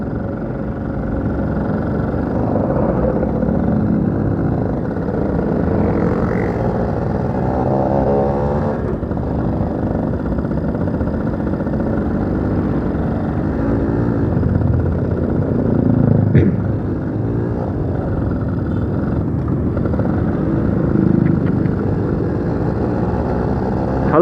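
A Yamaha V80 motorcycle runs continuously while being ridden, a steady low engine drone with wind rush and rising and falling revs over more than twenty seconds.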